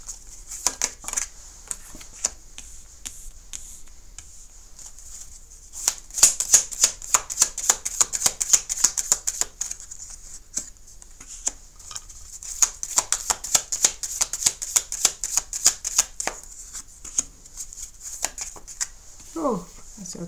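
Tarot cards shuffled and dealt onto a table in repeated bursts of quick riffling flicks and soft slaps, close and crisp, with brief pauses between rounds.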